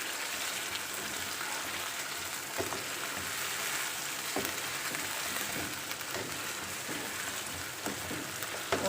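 Whole spices, including a black cardamom and a cinnamon stick, fry in hot oil for Hyderabadi murgh cholay, giving a steady, close sizzle with scattered spattering pops throughout and no voices.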